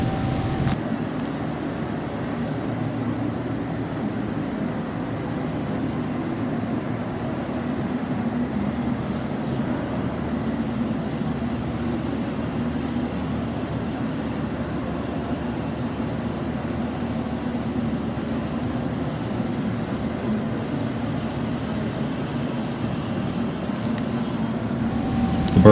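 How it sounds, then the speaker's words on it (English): A 400 hp industrial boiler burner, fitted with a variable speed blower drive, runs at low fire, giving a steady low roar and fan rumble that stays even and unbroken throughout, with no speech. "The burner is currently operating in the low fire condition."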